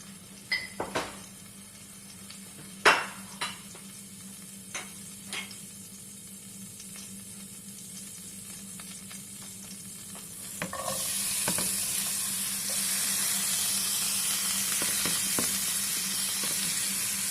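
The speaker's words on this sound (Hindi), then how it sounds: "heated the oil in a pan, add onion" Chopped onion goes into heated olive oil in a pan. A few utensil clinks and taps come first, then a loud, steady sizzle swells and holds.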